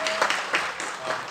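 Audience members at a party academy opening ceremony in Jeju clap briefly, a short, fairly thin burst of applause from a modest crowd heard at moderate distance.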